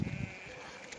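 A goat bleats loudly and close, a drawn-out wavering cry over a steady background hum.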